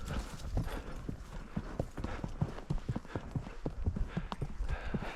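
Horse hooves clip-clopping at a walking pace during a ride in coastal California, a steady uneven rhythm of close, fairly quiet thuds over soft background noise, with no talking.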